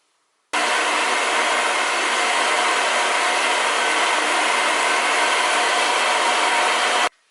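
A hair dryer blows on a wig band, switched on abruptly and running loud and steady for about six and a half seconds before cutting off.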